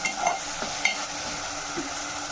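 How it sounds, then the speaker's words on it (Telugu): Masala paste for rajma curry sizzles in hot oil while being stirred, giving a steady faint frying hiss with a few soft scraping clicks of the spoon, and no talk. "ఒకసారి బాగా కలిపేసుకుని"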